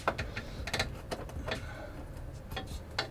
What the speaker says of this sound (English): So we're just going to loosen up all these.